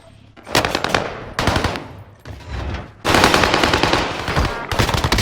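Automatic fire from a Marco-5 gun in a video game, several rapid full-auto bursts, loud and close, separated by short pauses.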